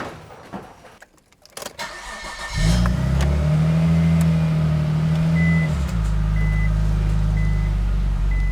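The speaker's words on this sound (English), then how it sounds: "Love the reversing beep." An R34 Nissan Skyline starts up in a garage and idles with a steady engine rumble, while a faint high reversing beep chimes at regular intervals as the car backs out.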